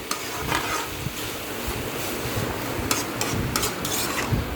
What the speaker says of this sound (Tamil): இப்போ நல்லா வதக்கி விட்டுக்கோங்க. இஞ்சி பூண்டு பேஸ்ட்டு மிக்ஸ் ஆகிற வரைக்கும் நல்லா வதக்கி விட்டுக்கோங்க.